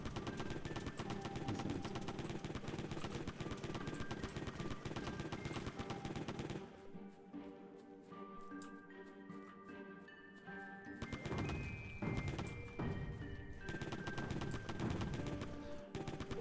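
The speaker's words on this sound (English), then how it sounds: "the gunfire and the explosions, that's all fun" Rapid video game gunfire from a Santa versus Krampus shooter crackles in dense automatic bursts, pauses briefly amid quieter tones and musical notes, then resumes with more shots and explosions.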